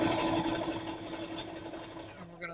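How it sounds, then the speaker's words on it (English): A sewing machine stitches quilt squares together for a nine-patch block, giving a close, steady mechanical whir that runs without a break for about two seconds before winding down. "we're going to sew it together"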